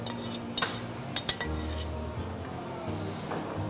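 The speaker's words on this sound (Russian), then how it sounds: "Берем тарелку и начнем есть." Cutlery clinks and scrapes against a plate of vegetable pasta topped with grated Parmigiano, a few sharp close taps over quiet room noise with no one speaking.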